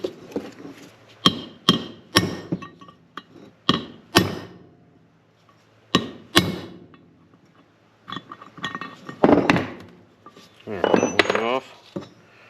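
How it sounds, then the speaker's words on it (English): A punch is hammered to drive wheel bearings off the spindle of a 2011 Polaris Ranger 800. Sharp metallic strikes ring out in bursts of two or three, with pauses between them. A final cluster of clanks is close and loud. "Got to drive them off the spindle here. It's going to use a punch."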